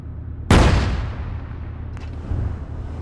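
A tank gun fires in ARMA 3, a single loud, sharp blast that rumbles as it decays, followed by fainter distant booms of other tanks firing.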